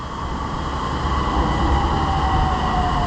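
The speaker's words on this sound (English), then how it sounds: "Thailand subways, pretty clean, really impressed with them. We are in business, here it comes." A Bangkok subway train pulls into the station with a steady, loud rumble and rail hiss, a high wheel tone running over the sustained low roar throughout.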